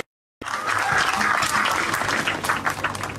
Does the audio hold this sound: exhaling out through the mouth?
no